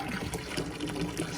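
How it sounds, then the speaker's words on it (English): Water runs through an X10 filter into a jacuzzi, a soft steady gushing trickle heard faintly and continuously. "filling water"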